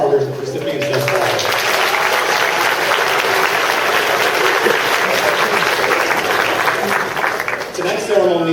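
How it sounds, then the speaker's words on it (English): Applause for award recipients fills the room at a high school senior awards ceremony, dense steady clapping from a sizable crowd that carries on for several seconds, with a voice briefly heard near the start and end. "How about a round of applause for our recipients thus far?"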